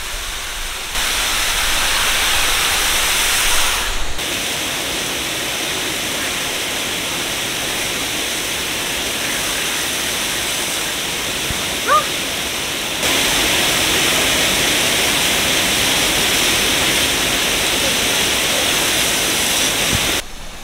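A powerful mineral water shower sprays hard in Nha Trang, Vietnam, making a loud, steady, full-bodied hiss that runs for about twenty seconds. It breaks only for brief dips near the start and midway through.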